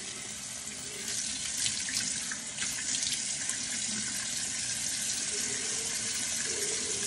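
Water running steadily from a tap at medium flow into a bathroom sink during skincare rinsing, a constant hissing splash that picks up slightly after the first second.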